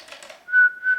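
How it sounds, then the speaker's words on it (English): A person whistles in short notes, first a faint breathy run and then two clear, sustained pure tones, close by in a quiet room. "Don't whistle in the house."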